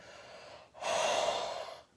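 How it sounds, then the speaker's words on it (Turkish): Deep pranayama breathing through the nose during a breath-balancing session: a soft, airy inhale followed by a longer, louder exhale that swells and fades, close and alone with no talking. "Burnumdan nefesi aldım ve verdim."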